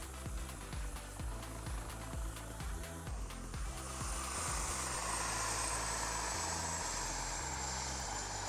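A helicopter flies a low stunt close to the ground, its engine and rotors producing a loud, steady roar with a rhythmic blade beat that swells and brightens midway as it passes near.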